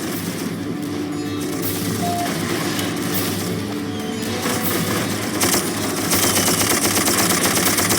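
Mounted machine gun cover fire in the video game Darkest of Days, a dense continuous rattle of rapid shots with steady low rumble, growing louder toward the end.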